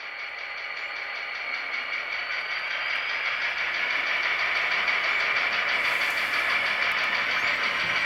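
A Walthers Proto EMD GP35 HO scale model locomotive runs along track with a steady high motor whine and soft mechanical hum. The sound is continuous and even and swells slightly as it goes, with no voices.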